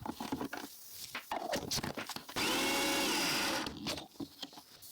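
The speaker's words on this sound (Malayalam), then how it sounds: "ചെറുതായി അരിഞ്ഞ തക്കാളിയും കുതിർക്കാനായി മാറ്റിവെച്ച കശുവണ്ടിയും നന്നായി പേസ്റ്റ് രൂപത്തിൽ അരച്ചെടുക്കാം" A kitchen mixer grinds chopped tomato and soaked cashews into paste in one short, steady whirring burst of about a second and a half, set between quieter clattering and handling noises.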